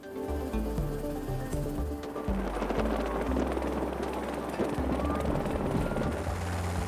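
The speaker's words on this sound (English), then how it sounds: "helicopters are often deployed" A border patrol helicopter drones steadily at a distance, its low rotor thrum continuous under a busy, noisy outdoor background.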